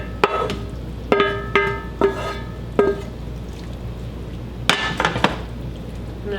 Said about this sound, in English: I'm gonna add my onions and peppers and steak back into that